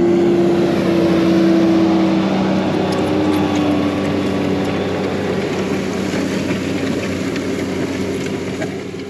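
Fendt 722 Vario tractor restarting in a field, pulling a six-furrow Kongskilde non-stop hydraulic reversible plough; a steady, loud engine drone with harmonic whine holds throughout, fading slightly at the end.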